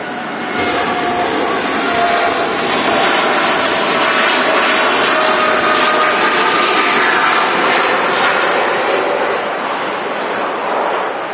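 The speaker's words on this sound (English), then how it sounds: "TUI Bravo on the reg of this 787-8 Dreamliner heading off to Cape Verde" A TUI Boeing 787-8 Dreamliner departs Manchester Airport for Cape Verde, its jet engines a loud, sustained roar that holds steady throughout with no voices.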